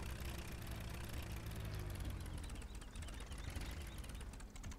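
A tractor engine idles in Farming Simulator 17, a steady low, rough mechanical drone that stays loud and unbroken with no talk over it.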